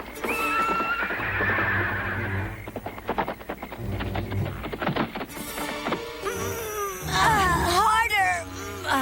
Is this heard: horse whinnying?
yes